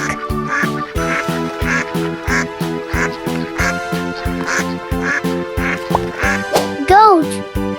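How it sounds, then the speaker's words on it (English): Duck quacks sound repeatedly over a rhythmic musical backing, with a brief louder squawky call near the end. "Duck."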